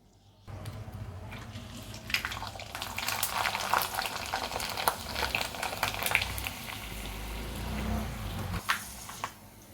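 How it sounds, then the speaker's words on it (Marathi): Rava papads frying in hot oil, a dense bubbling crackle that starts abruptly and holds steady at close range, with occasional clinks of a utensil against the pan. "चला तर मग आता तेल तापायला ठेवलंय, तळून घेऊया."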